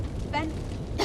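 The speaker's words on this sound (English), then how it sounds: "Jenny wakes up coughing and she tried to wake up Ben" A waking game character in Eternal Threads lets out a short cough, then a second harsher cough about half a second later, close and fairly loud.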